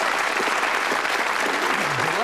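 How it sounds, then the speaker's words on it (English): Steady studio audience applause on a darts game show, a dense wash of clapping from a crowd with a voice faintly underneath. "Give this lovely couple a nice round of applause."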